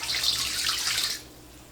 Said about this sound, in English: So there's 4. I'll pour that in there.